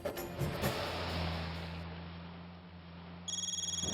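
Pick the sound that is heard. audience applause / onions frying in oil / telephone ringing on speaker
telephone ringing on speaker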